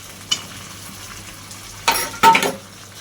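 Chicken with fried potatoes is stir-fried in a pan, a soft background sizzle broken by a few short, scraping stirring strokes close by, one brief and two longer ones near the end.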